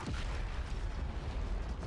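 A remastered explosion in the video game Marvel's Spider-Man: a dense, rumbling blast with crackling debris that stays loud and sustained for about two seconds, with no voices over it.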